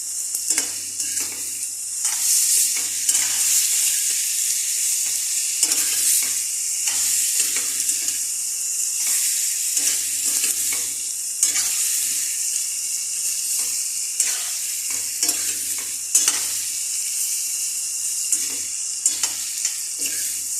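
Pechay and bisugo fish sauté in a pan with a steady, close sizzle and frying crackle, broken by occasional stirring and scraping sounds, and no one talks throughout.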